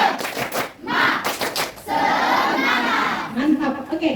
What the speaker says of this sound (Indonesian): Ibu ingin dulu kalian tepuk semangat.